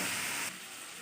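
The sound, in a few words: potatoes frying in a pan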